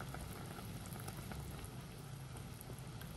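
A pot of spicy chili fish curry simmers on a low flame, giving a faint, steady bubbling hiss with no talk.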